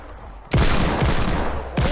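Automatic gunfire in Fortnite bursts in suddenly after a quiet moment, a loud sustained volley of rapid shots, cut off and then restarting sharply at the very end.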